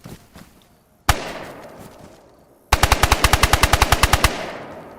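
Gun in the DayZ video game, one sharp shot then, after a pause, a rapid burst of about fifteen evenly spaced loud rounds with a fading tail.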